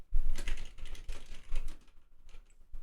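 Soft keystrokes on a computer keyboard patter quietly and close in an irregular stream, with no talking.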